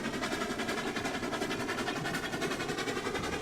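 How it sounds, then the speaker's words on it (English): Two steam locomotives in RailRoads Online strain to haul a train uphill, a steady heavy chuffing rumble with rhythmic mechanical pulsing, continuous and fairly close. "It's taken the juice out of the 2 locomotives just to get it moving up the hill."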